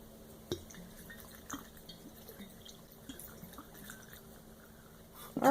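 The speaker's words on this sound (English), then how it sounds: "get our funnel and let's start pouring it in" Everclear alcohol is poured through a funnel into a jar: faint trickling and a few soft drips and splashes in a quiet room, ending with a slightly louder handling noise.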